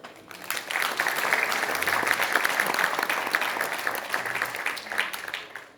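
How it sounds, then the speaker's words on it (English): Sustained applause from an audience at a hospitality industry event, dense rapid clapping of many hands that holds steady at moderate loudness for several seconds before tapering slightly. "A big clap for her also."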